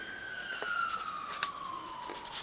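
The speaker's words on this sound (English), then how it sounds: "Sorry about that if you heard the sirens." An emergency vehicle siren wails outside, faint and distant, with a long sliding tone heard through the walls of a quiet room.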